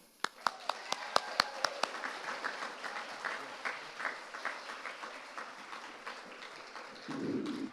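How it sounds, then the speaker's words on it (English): At a Nashville mayoral forum on housing, a burst of scattered, crisp hand claps opens the moment, then fades as voices and room murmur take over, ending with a low rumble. "thank you for that warm round of applause and welcome"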